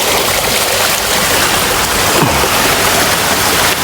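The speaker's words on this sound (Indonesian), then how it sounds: "Wow, anginnya tambah kencang loh teman-teman." Strong wind sweeps through an abandoned waterpark at night, a loud, steady broadband rush that barely wavers across the whole stretch, with no voices.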